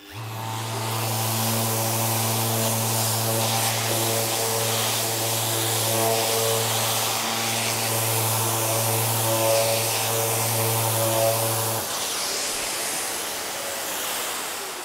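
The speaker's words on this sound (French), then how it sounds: "J'obtiens ainsi un beau ponçage précis avec une course de 3 mm." A Festool ETS EC 150/3 eccentric sander with a 3 mm stroke runs loud and continuous on a surface, its steady motor hum and abrasive hiss holding for about twelve seconds before the tone drops as it winds down.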